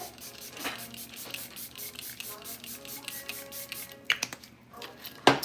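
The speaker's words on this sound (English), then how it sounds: "then we're going to spray ourselves" A setting spray is misted onto a face after makeup, giving a few quiet hissing bursts with a sharper spritz near the end, close and faint, and no one speaks.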